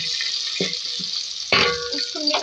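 Bell pepper cubes frying in hot oil give a steady bright sizzle, with a louder surge of crackling midway as the pan is stirred or fresh pieces hit the oil.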